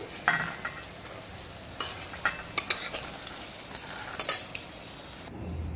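Eggplant pieces fry in oil while being stirred, giving a steady close sizzle with bursts of spatula scraping and metallic clinks against the pan, with no voices.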